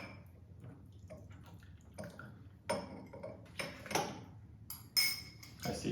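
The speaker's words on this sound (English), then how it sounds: "If you want, you can pour out that one." Brewed Rougui tea is poured out, giving quiet trickles of liquid with several light clinks of porcelain or glass, spaced irregularly and close by.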